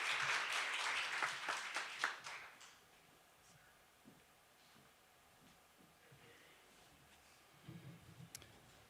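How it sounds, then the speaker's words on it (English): A live audience at a state poetry recitation finals gives a loud burst of applause that fades out after about three seconds, followed by quiet room tone and a few faint thumps. "So let's give everybody a round of applause"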